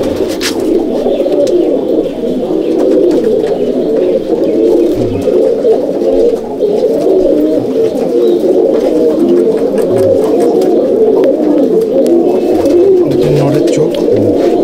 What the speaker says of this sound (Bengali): এটা হচ্ছে পাঞ্জা পায়রা, পুরো জামনি পাঞ্জার পায়রা, দেখতেই পাচ্ছেন